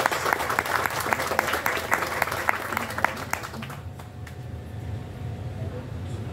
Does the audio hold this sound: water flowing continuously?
no